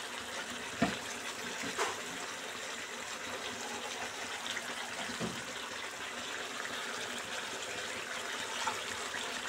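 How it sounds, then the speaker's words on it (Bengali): Hot water poured into a simmering chicken curry in a home kitchen, a steady watery gush that runs on evenly with a couple of brief knocks near the start. "এখানে আমি একটু গরম জল বসিয়ে দেবো।"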